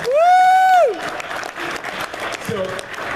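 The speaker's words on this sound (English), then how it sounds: "clap for him." A panel audience at a rhythm games gaming convention bursts into applause. A short voiced call comes first, then a steady, moderately loud round of clapping from the crowd.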